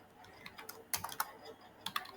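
Fingers typing code on a computer keyboard, a light scatter of soft clicks that turns into a few sharper, louder bursts of keystrokes, close and with no talking.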